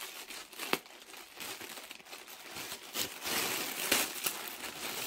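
Rustling and crinkling of packaging as an Amazon package is cut and unwrapped with scissors to get at an LED light-up teddy bear, with a few sharper tearing bursts close by and no talking.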